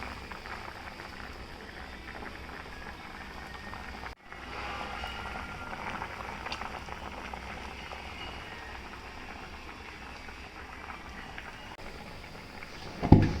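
Amla simmers in salt and sugar water in a wok, the liquid well reduced, producing a steady bubbling hiss throughout, with a brief break partway through and a small clatter right at the end.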